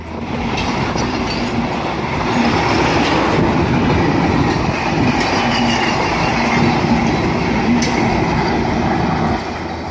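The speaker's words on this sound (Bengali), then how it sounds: "বর্তমানে দ্রুতযান এক্সপ্রেস ট্রেনটি ভারতীয় এইচবি কোচ নিয়ে চলাচল করছে" An intercity express train made up of Indian LHB coaches runs past, a loud steady rumble with rhythmic wheel clatter and faint squeals, continuous throughout with no voices.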